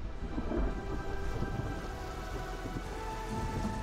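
Heavy monsoon rain pours steadily in Indonesia, a dense continuous roar with low thunder rumbling underneath, close and loud with no voices.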